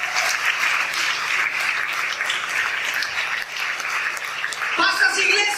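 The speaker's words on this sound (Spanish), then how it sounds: "Un aplauso a Dios entonces." A church congregation applauds during a Spanish-language sermon, a steady wash of clapping filling the room for several seconds with voices mixed in.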